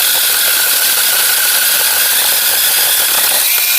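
A powered pruning saw cuts through garden branches in a village yard, giving a loud, steady high-pitched motor whine with grinding buzz throughout, no talking over it.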